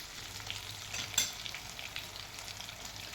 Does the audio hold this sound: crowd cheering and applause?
no